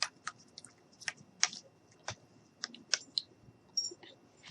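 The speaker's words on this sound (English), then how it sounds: "I'm just going to take my scissors, since they're here, and just give this a little stir" Scissors stirring liquid in a small homemade snow globe jar, making sparse light clicks and taps against the glass, close and quiet with irregular gaps between strikes.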